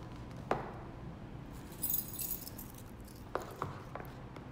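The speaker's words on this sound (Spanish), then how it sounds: "Vamos a tratar de abrirlo con las llaves." Keys jangle and clink against each other while prying at the packaging of a universal mobile keyboard. A few sharp metallic clinks stand out over faint rustling, close up and quiet.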